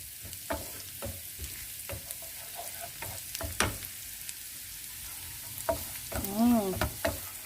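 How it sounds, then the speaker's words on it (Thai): Garlic stir-frying in a pan, an even close sizzle punctuated by repeated sharp scrapes and clacks of a spatula, with a brief hum of voice near the end. "ผัดให้กระเทียมหอมนิดนึงก่อนนะคะทุกคน"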